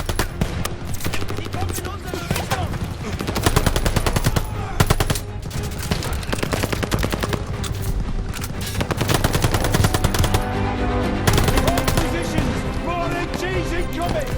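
Machine gun fire in the video game Call of Duty Vanguard, set in a battle on Omaha Beach: dense, continuous rapid bursts and explosions under shouted orders from soldiers.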